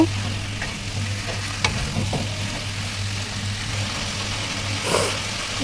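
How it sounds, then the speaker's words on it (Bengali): Meat fries with ginger-garlic paste and red chili powder in a pot. A steady close sizzle runs over a low hum, with occasional scrapes and taps of stirring and a brief louder hiss near the end. "এখন আবার এটাকে ভুনে নেব। মাংসটাকে ভালো করে ভুনে নেব।"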